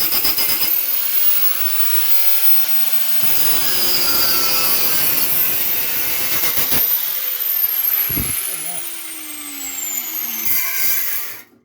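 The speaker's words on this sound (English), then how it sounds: "That's a little chassis leg to cut out." A hand saw cuts through the steel chassis leg of a Ford Escort MK1 under restoration, with steady rasping strokes running for several seconds and a few metallic clanks toward the end.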